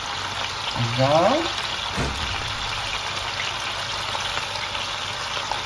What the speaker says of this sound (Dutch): Dit allemaal ga ik een beetje mooi bakken.